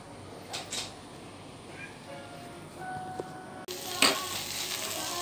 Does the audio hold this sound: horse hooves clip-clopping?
no